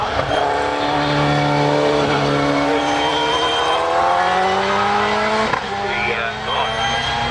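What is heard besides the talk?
hillclimb race car driving up towards the finish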